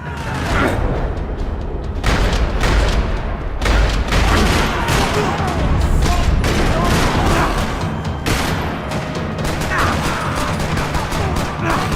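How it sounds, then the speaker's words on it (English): Loud, dense gunfire in a parking lot in Max Payne 3 rattles nonstop, with overlapping shots and booms forming a continuous barrage. "Another parking lot rattling with gunfire."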